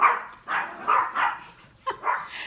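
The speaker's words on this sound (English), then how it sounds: "the puppies are greeting them" Several puppies bark and yip in quick, excited bursts as someone comes home, five or so close, lively calls with short gaps between them.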